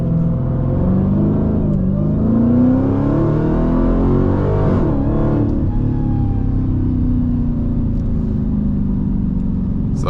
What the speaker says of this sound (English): Launching in second gear.